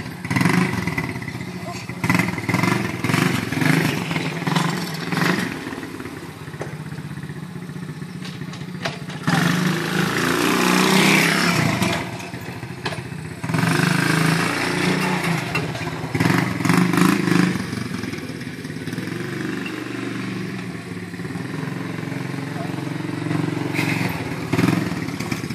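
A 110 cc automatic quad bike's combustion engine runs steadily at close range, its rough mid-pitched drone rising briefly as it revs, with voices talking over it.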